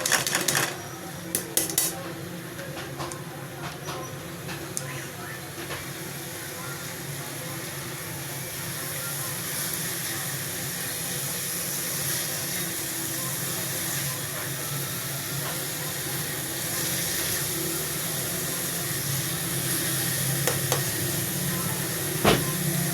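Boiled dal tipped into fried masala in a hot pan, producing a loud, steady sizzling hiss that runs the whole time, with a few sharp clinks near the start.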